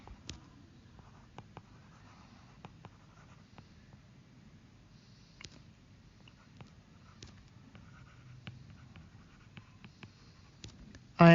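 Quiet, sparse scratches and taps of a marker or chalk writing on a board in a classroom, faint and intermittent with a steady low background hum and no talking.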